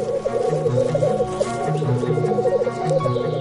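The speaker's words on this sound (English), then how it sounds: "Males woo the ladies with a bubbling sound called rukuing." Repeated bubbling, cooing courtship calls from several male black grouse overlap continuously at a steady rhythm, a rolling chorus moderately close and fairly loud.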